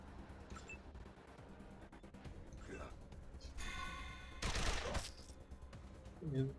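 Gunfire in the video game Wasteland 2, faint sharp shot bursts and a short rattling volley partway through, set against quiet game background sound with a voice talking.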